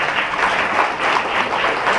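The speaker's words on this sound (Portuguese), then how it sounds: "Aplauda o nome do Senhor" A church congregation at an Assembléia de Deus service applauds together, a dense, steady wash of many hands clapping at once, fairly loud and sustained throughout with no individual claps standing out.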